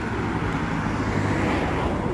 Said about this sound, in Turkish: Bakın biraz şimdi bir tane daha araba geliyor.